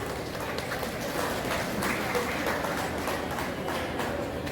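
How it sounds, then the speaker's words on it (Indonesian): Sustained applause from an audience at an Indonesian lecture, a steady wash of many hands clapping, fairly distant and even in loudness throughout. "Boleh tepuk tangan."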